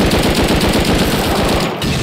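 Rapid automatic gunfire in Rust Console Edition, a loud, close burst of fast repeated shots rattling without pause for about two seconds before a brief dip, with no voices over it.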